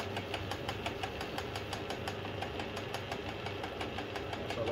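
Atlas lathe boring bushes, its motor and cutting producing a steady mechanical drone with a fast, regular ticking rhythm throughout, close and fairly loud.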